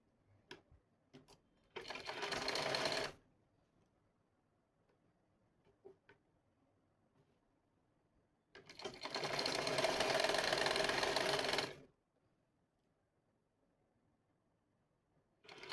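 An electric sewing machine stitches pant fabric in two bursts, a steady fast whirring hum of about a second and then about three seconds, with faint clicks and handling noises in the quiet gaps.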